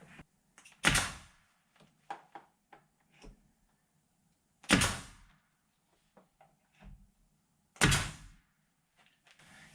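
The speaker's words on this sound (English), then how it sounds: "pop a few of these brad nails in through the brick mold on the outside into the frame" A brad nailer fires nails through exterior door brick mold into the frame: three sharp, loud pops spaced a few seconds apart, with lighter knocks and handling noises in between.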